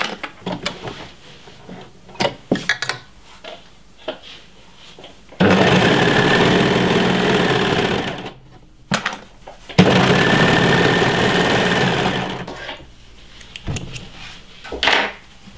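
A sewing machine stitches a fabric seam for a raglan top in two steady, loud mechanical runs of a few seconds each, separated by quiet pauses and softer handling clicks.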